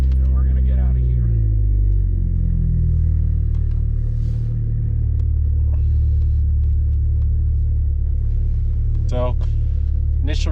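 A car engine with a new ECU idles and rumbles low as the car reverses, a deep steady drone with a slight rise in revs early on, close and loud, with a person speaking over it.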